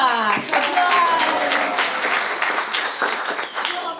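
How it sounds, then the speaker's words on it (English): Full audience applause after a clown's storytelling performance, dense steady clapping close and loud throughout, with voices and cheering mixed into it. "Applause!"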